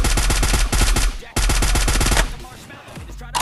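Rapid automatic gunfire in a video game cracks out in two dense, loud bursts of evenly spaced shots, followed by quieter clatter and a final short report.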